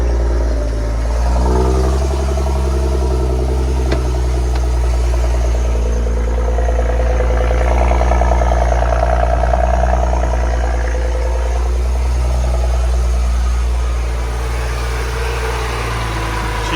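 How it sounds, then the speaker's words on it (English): A BMW E70 xDrive35i engine turns over and settles into a steady, loud, rumbling idle that continues throughout, with a brief rise in revs partway through. "let's get the engine running"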